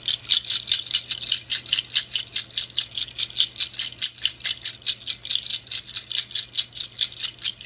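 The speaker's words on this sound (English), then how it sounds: "I'm going to put the nut rattle out and I can make some noise" A rattle made of nuts is shaken steadily and close up, producing a continuous rhythmic clatter of rapid pulses with no voices over it.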